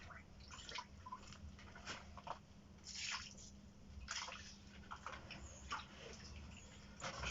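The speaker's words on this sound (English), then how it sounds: "Just going to add some more water." Water is poured and splashed into a plaster mix for a mould, giving faint irregular drips and sloshing bursts over a low steady hum, close by and quiet.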